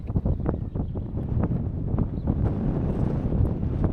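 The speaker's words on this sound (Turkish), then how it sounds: "çok rüzgar var" Steady coastal wind buffeting a microphone in Ayvalık, Turkey, a low continuous rumble with gusty bursts throughout.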